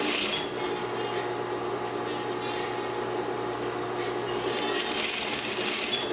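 A sewing machine stitches sheer fabric to its underlining, giving a continuous, even mechanical hum with a soft rubbing texture that holds steady throughout and picks up slightly near the end.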